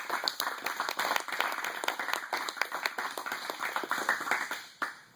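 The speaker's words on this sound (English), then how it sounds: "So a huge round of applause for Tori." An audience at a jiu-jitsu gym claps and applauds for a young competitor, a steady, close round of applause filling the whole stretch before cutting off near the end.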